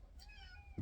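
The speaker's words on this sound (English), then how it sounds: "my little cat's been bugging me." A cat gives a single drawn-out meow close by in a kitchen, alone and clear, with a brief bump at the end.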